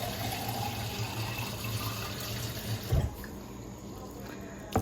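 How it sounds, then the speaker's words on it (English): Water poured into a slow cooker crock pot, a steady soft splashing stream that runs close by before a brief louder slosh and a quieter tail. "start to fill up this crock pot with water"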